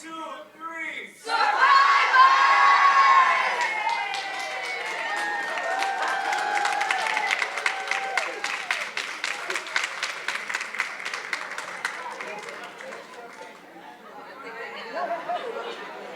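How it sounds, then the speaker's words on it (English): A gala crowd at the AABCA 35th anniversary applauds and cheers for survivors. A loud swell of cheering and chatter gives way to a long run of dense, rapid clapping that gradually tapers off, with voices mixed throughout. "give the survivors another round of applause as they take their seats"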